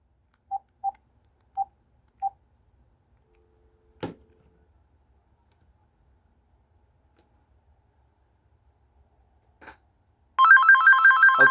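Four short dial beeps, a click and a brief tick from an AT&T TL76108 phone, then a loud electronic ring starts near the end in rapid repeating pulses.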